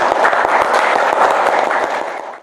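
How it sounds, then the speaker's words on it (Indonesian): Brief classroom applause for a student, a small group clapping together, close and fairly loud, fading out after a couple of seconds. "Oke, tepuk tangan dulu untuk Fauzan."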